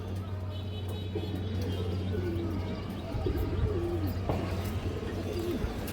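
Pigeons of an old flying line coo repeatedly in soft, wavering phrases over a steady low hum, with faint chirps and a passing bump of background noise.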